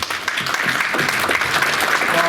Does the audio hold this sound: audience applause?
yes